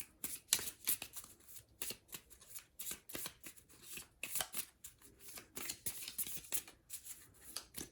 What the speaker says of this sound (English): We'll give that a shuffle